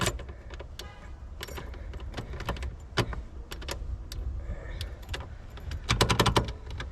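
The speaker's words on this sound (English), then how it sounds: "I can't even turn the key." A car key is turned and jiggled in the locked ignition of a 1967 vehicle with a 6.7 Powerstroke swap, making irregular metallic clicks and light jangling close up, with no talking.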